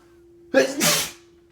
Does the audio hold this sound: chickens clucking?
no